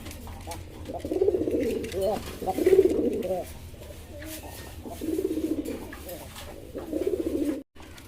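A pair of black German Beauty pigeons coo in repeated low, throaty phrases, close by, with a few pauses between calls.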